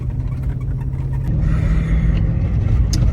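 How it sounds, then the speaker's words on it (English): A diesel skid steer engine runs at steady idle in cold winter conditions, a loud close low rumble that rises slightly in revs partway through, with no talking. "now my skid steer is trying to gel up on me"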